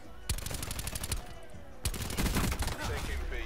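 Rapid bursts of Peacekeeper gunfire in Black Ops 4, loud close automatic fire in two long strings with a brief pause between, dense and continuous throughout.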